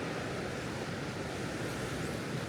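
Ocean surf at the Storms River mouth in Tsitsikamma National Park, South Africa, making a steady, loud broadband roar of breaking waves with some wind noise and no pauses or speech.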